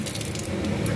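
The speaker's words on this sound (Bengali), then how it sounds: "এখানে আমি সাদা তেল বসিয়ে দিয়েছি, দিয়ে দিচ্ছি 5 ফোড়ন," Five-spice seeds dropped into hot white cooking oil, giving a steady, dense crackling sizzle that stays loud and even throughout the short moment, with no talking.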